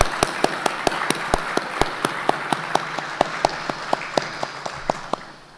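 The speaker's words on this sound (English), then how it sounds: "Let's give Ross another round of applause." A few people at an Eagle Scout award luncheon clap sharply in a sparse, steady rhythm, each clap distinct against a quiet room.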